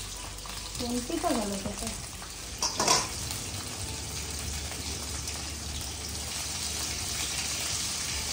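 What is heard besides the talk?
potatoes frying in a pan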